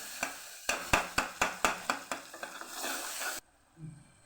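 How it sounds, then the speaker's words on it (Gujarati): Garlic chutney stirred and sautéed in a pan gives a run of sharp, regular spoon scrapes and knocks over a bright sizzle, then the frying cuts off abruptly, leaving a faint low sound. "લસણવાળી ચટણી ખાંડેલી એ સરસ આપણે અહીંયા મિક્સ કરી અને સરસ સાતળી લેવાની છે"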